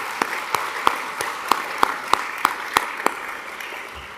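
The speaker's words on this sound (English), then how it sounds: "How about a big round of applause for them?" A graduation ceremony crowd gives a smattering of applause, with a few sharp claps standing out at a steady rhythm over a light wash of clapping, moderately near.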